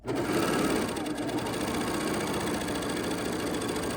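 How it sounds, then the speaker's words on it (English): A bernette 68 sewing machine stitches steadily with a fast, even mechanical whir and needle tapping, close and continuous with no voices. "now I'm just going to carefully stitch."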